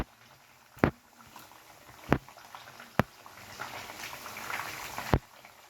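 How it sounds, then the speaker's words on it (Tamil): Fish spatters as it fries in a pan, a faint, soft bubbling broken by four or five sharp, loud pops spaced a second or so apart, with no voices. "இப்போ நான் அதை பொரிச்சிக்கிட்டு இருக்கேன்"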